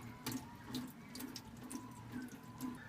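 Rice being rinsed in water at a kitchen sink, a tap running steadily with soft splashing and trickling, fairly close and alone with no talk.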